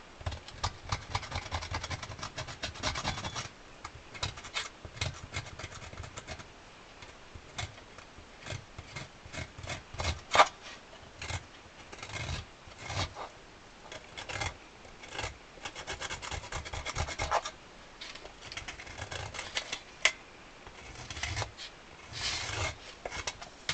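Steady rough scraping of sandpaper sanding wax off an accordion reed block, rubbing back and forth, continuous and close, with uneven strokes and no talking.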